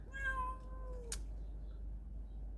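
A cat gives one clear, drawn-out meow close by in a quiet setting, followed by a short sharp click and soft background hiss.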